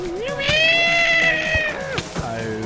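A single drawn-out Siamese cat meow in the video game Minecraft, high and tonal, rising then falling, loud and close, with no talking.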